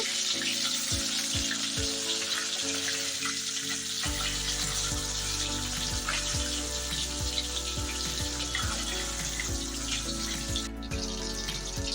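Pieces of bhola fish fry in hot oil in a pan, turned partway through, giving a loud, steady crackling sizzle throughout with a few soft utensil knocks early on.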